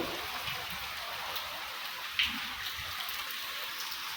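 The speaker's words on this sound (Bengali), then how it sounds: "যেভাবে বৃষ্টি শুরু হয়েছে" Rain patters down in a soft, even hiss, with one brief sharp tap partway through; quiet and steady throughout.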